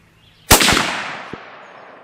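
A single sharp .270 Winchester rifle shot fired outdoors while sighting in, loud and close, with a long fading echo and a faint click afterward.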